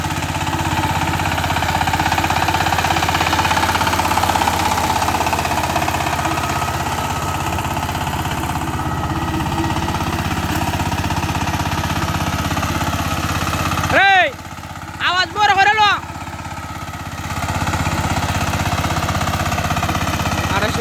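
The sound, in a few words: Saifeng power tiller engine running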